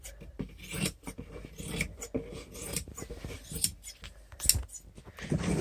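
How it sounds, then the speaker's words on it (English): Scissors snip and rasp through fabric being trimmed around the edge of a homemade acoustic absorption panel, a run of close, uneven cutting and rubbing sounds with short pauses between strokes. "And then with our scissors, we're just going to trim it off."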